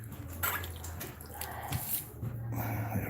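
Water drips and trickles from a leaking toilet supply line being loosened, with faint close drips and wet metallic clinks under low background noise.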